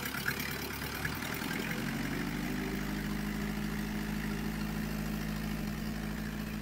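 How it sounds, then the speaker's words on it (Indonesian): An Isuzu Panther diesel engine idles steadily after an additive is added, giving a constant low rumble with an even mechanical clatter that stays close and loud throughout. "Nanti suara mesinnya lebih halus."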